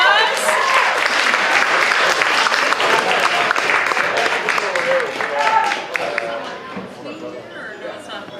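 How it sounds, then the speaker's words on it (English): A crowd at a charity stand-up comedy show applauds a comedian, loud dense clapping mixed with cheers and whoops that gradually tapers off, with some chatter and voices underneath. "Give her a round of applause."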